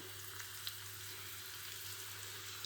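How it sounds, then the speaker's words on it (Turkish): Onions sizzle quietly in a pan, a soft steady frying hiss with faint occasional crackles and pops. "güzelce kavuracağım bunu."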